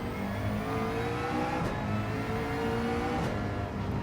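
A race car in Gran Turismo 7 runs at full throttle, its engine a loud, steady, continuous drone with a sustained pitched whine throughout and no talk.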